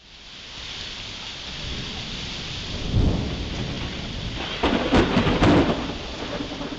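A thunderstorm pours steady rain while thunder cracks and rumbles nearby, with a sharp clap near the middle and a louder burst of crackling thunder toward the end.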